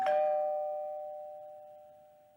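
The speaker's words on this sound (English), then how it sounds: "Just then, the doorbell rings." A single electronic doorbell chime rings out clearly, a bright tone that decays slowly over a couple of seconds in an otherwise quiet room.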